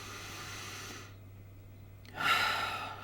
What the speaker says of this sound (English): take 3 nice deep breaths